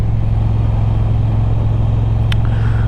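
Triumph Bonneville T120 Black motorcycle cruising around town in second gear, a steady low engine drone with a constant rumbling exhaust note and no talking.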